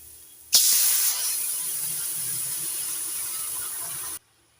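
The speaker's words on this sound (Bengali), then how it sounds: "ঝোল ফুটে উঠেছে" Curry broth with gourd and prawns bubbles in a hot pan, a loud, steady hiss that starts abruptly and runs for several seconds before stopping, with no one talking.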